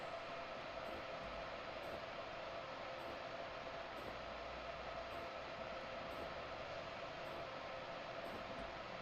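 Train pulling away under light throttle in a train simulator on the Vermonter route toward New York Penn, a steady even rumble with constant hiss and faint regular ticks throughout.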